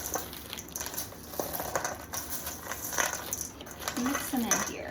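Cookie dough bites stirred into a bowl of mixed candy for a candy salad, giving scattered light clinks, rattles and soft squishy shuffles that come and go across several seconds, close up, with no talking.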